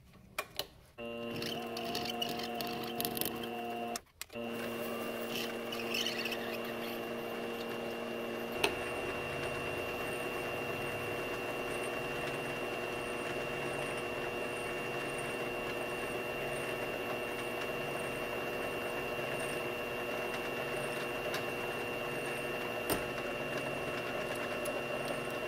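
A small lathe with an esp32 electronic leadscrew turns a round of Delrin plastic scrap, a steady close mechanical whir and hum with a few brief clicks at the start.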